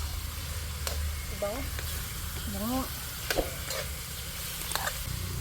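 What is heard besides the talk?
chicken sautéing in a pot over a wood fire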